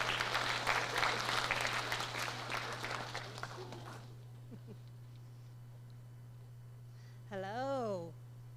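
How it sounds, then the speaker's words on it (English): Applause from an audience at a high school senior awards ceremony, fairly strong at first and then thinning out until it stops by the midpoint, followed by quiet room tone and a brief sliding tone near the end. "Give her a round of applause."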